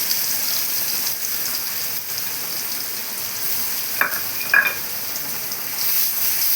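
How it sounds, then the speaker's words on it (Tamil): Garlic and sambar onions sauté in hot oil with curry leaves in a pan for Vedaranyam-style poruma kuzhambu, a steady close sizzle and hiss with a couple of brief sharper pops near the end, no talk. "அரிசி வச்ச 5 பூண்டு, சாம்பார் வெங்காயம் இதில் வதக்கிடலாம்."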